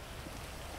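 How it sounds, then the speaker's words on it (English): Rain falling in the Grand Theft Auto V video game, a steady, dense hiss of drops spread evenly across the short stretch with no voices over it. "Look at these rain effects."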